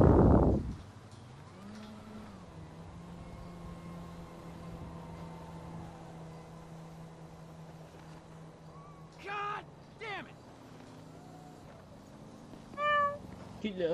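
Rescued stray kitten indoors meowing a couple of times near the end, short thin cries after a stretch of quiet background hum, with a person speaking softly at moments.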